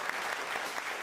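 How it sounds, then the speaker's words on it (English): Brief burst of audience applause at an evening stage show, a dense even wash of many hands clapping, fairly faint and heard alone. "Can we have a round of applause for that?"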